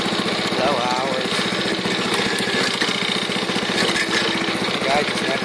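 A 48-inch ride-on hydrostatic lawn mower, about three years old with low hours, runs steadily with a loud, continuous engine drone and a fast, even pulsing throb throughout, close by.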